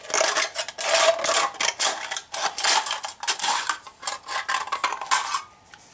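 A thin aluminum soda pop can being cut with a blade, giving close, loud, rapid scraping and crinkling strokes in quick bursts with brief gaps between them.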